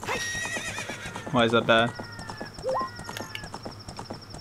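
A horse whinnies in Ocarina of Time, a loud whinny in the middle with faint clip-clop hooves and game sounds around it, while people talk over the gameplay.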